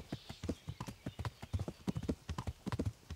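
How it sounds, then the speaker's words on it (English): Horse hooves clip-clop at a steady riding pace in Kingdom Come: Deliverance, a close, regular run of hoofbeats continuing alone through the clip. "we'll just head back on the horse"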